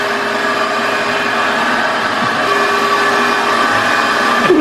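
A shop vac fitted with a narrow, tiny-holed nozzle runs steadily and loudly, a continuous whine with a slight rise in pitch near the end, no voices over it.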